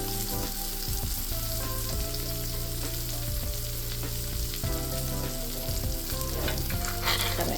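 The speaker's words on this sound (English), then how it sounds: "we're going to use that butter sauce to spoon over the steak to give the steak a nice added flavor" Ribeye steak fries in butter with herbs and garlic, a steady loud sizzle that runs throughout, broken by repeated scraping and clinking as butter is spooned over the meat.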